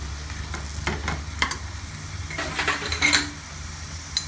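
Diced potatoes cook over a low flame in a pan for egg bhurji, a soft steady frying hiss broken by several clinking stirs of a utensil against the pan, close and without talk.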